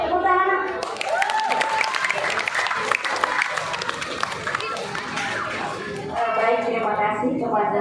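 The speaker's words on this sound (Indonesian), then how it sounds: "Tepuk tangan." An audience of children and adults at a Ramadan religious talk claps together for several seconds, busy and fairly close, with voices over the start and end.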